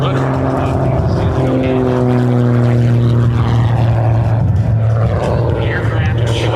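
Edge aerobatic propeller plane performing a sideways slideways pass at an airshow, a loud droning engine with shifting pitch sweeping by, close, with voices and crowd noise mixed underneath.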